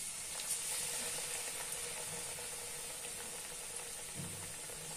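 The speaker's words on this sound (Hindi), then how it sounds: "इसे फ्राई कर लेते हैं। तेल गरम हो गया है।" Poha cutlets coated in vermicelli frying in hot oil, a steady close sizzle with faint crackling throughout, no talk.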